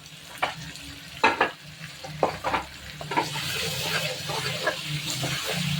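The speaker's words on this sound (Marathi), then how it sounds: "कांदा व टोमॅटो तळल्यानंतर मी ही पेस्ट ह्याच्यात ॲड केली" Ginger-garlic paste fries in oil with onion and tomato for Mumbai street pav bhaji, with close spatula scrapes and clatters over a sizzle that builds to a steady hiss.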